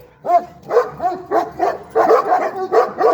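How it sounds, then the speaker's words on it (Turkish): A dog barks repeatedly at close range, sharp yips and woofs in an uneven rhythm, with whiny tones mixed between the barks. "havlama hep dışarıdaki köpek yüzünden"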